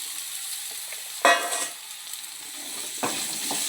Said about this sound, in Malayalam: ഇതിലേക്ക് അരിഞ്ഞു വെച്ച ഉരുളൻകിഴങ്ങ് ചേർക്കാം.